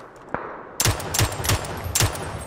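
Gunfire rings out in PUBG: a single faint shot, then a rapid string of four or five loud, sharp reports in quick succession, close and punchy with no talking.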